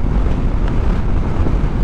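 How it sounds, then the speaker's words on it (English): Loud, constant wind roar buffeting a microphone while riding a Yamaha Tenere 700 World Rally motorcycle on a very windy day, a dense rushing noise with no other sounds standing out. "It is very noisy, it is a very windy day"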